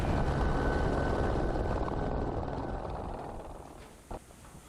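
A helicopter's rotor thumps and engine roar fill the air over remote country, loud at first and gradually fading as it moves away, ending with a faint tap.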